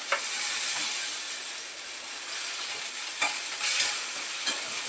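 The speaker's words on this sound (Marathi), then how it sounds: "लसूण आणि अद्रक घालते यामध्ये थोडस ॲड परतून घेते" Garlic, ginger and coriander sautéing in a pan for a chicken dish, a steady close sizzle with a few sharper crackles and stirring scrapes, no voices.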